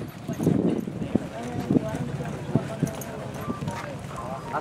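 A racehorse gallops through a quarter-horse style race, its hoofbeats thudding in an irregular clip-clop rhythm under a loud, continuous stream of excited Spanish race calling and crowd noise.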